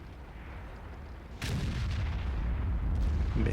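A 150mm gun on a Rheinmetall-Borsig Waffentrager fires once in World of Tanks, a sudden heavy boom over a low rumble, with the blast rolling on loudly afterward.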